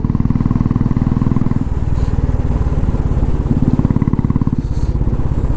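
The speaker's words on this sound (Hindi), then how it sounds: "मैं थोड़ा थोड़ा पॉज ले रहा हूँ, ताकि वो बुलेट का जो हमारे इंदौर का जो साउंड है उसका मज़ा ले सके" A Royal Enfield Bullet Standard motorcycle engine runs close by in Indore, giving a steady, deep, rapid thumping beat that holds loud and even throughout with no one talking.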